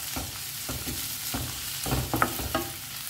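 Tomatoes being stirred into squid frying in a pan for a Goan chilli squid dish: a constant close sizzle with rhythmic scraping strokes of the spoon, no talk.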